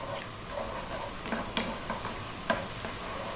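Ginger and garlic stirred in a hot pan, with a steady low sizzle of frying broken by a few light scrapes and clicks of the utensil against the pan.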